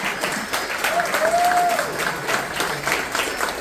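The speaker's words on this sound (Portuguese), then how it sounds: "Vamos aplaudir o Senhor pela música antiga." A church congregation claps steadily throughout, a broad wash of applause with a brief high whistle-like tone partway through.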